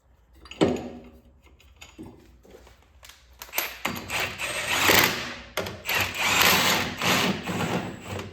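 A power impact tool tightens wheel nuts on a C6 Corvette during a body swap, with softer mechanical clicks and handling first, then several loud, sustained rattling bursts close by.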